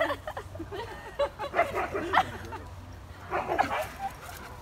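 A Siberian husky in a park with other huskies gives repeated short yips and whiny vocal bursts at moderate loudness, over a low steady background hum with a busy mix of nearby noise.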